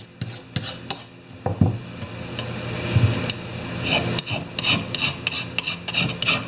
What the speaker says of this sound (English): so I'm sharpening it as I go